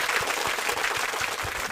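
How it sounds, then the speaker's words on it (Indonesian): A class of students claps together in a room, a brief burst of fairly faint, dense applause with no voices over it. "Oke, tepuk tangan untuk semuanya."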